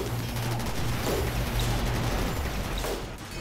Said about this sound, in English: Oh, incendiary launchers, how I hate you.